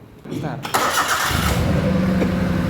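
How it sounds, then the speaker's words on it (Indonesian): A car engine cranks and catches, then settles into a steady warm-up idle with a low, even rumble, with brief talk over the start. "Langkah berikutnya kita putar switch ke on, yaitu kita panaskan mesin."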